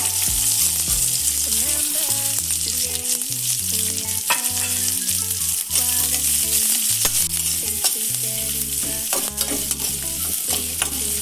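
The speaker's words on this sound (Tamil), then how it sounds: "இப்போ வெங்காயம் ரொம்பலாம் செவக்க வதக்கணும்னு தேவையில்லை கண்ணாடி பதம் வதங்கினா போதும்" A large chopped onion sautés in a frying pan until it turns translucent, for a Tamil village-style dish. Dense, loud sizzling carries on without a break throughout, with stirring and no speech.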